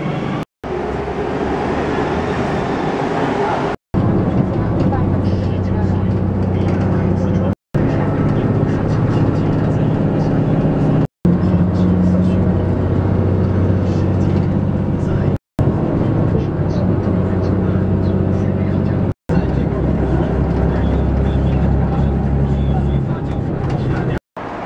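Riding the M416 bus from Houyi station to the Shenzhen airport terminal: a steady, loud engine and road rumble fills the cabin without pause, broken only by a few brief cuts.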